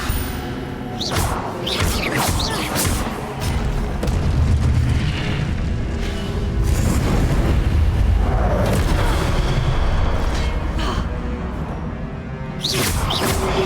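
Hogwarts Legacy spellcasting in a duel, including the Incendio fire spell, with a run of heavy booms and fiery eruption bursts following one another, loud and close over a rumbling background.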